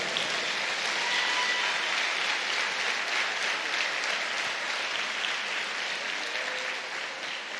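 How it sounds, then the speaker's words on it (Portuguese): Church congregation applauding after a sermon, a loud, sustained, even roar of many hands clapping throughout, with no speech over it. "Pode aplaudir o Senhor."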